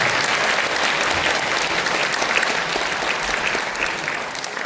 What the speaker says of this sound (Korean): 모두를 위해 서로에게 큰 박수 부탁드리겠습니다